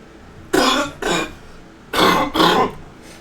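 Four harsh coughs in two quick pairs, loud and close, with a short pause between the pairs and no talking.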